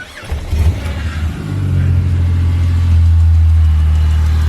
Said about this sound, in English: I'm going to start it up and see if we have power steering, I guess.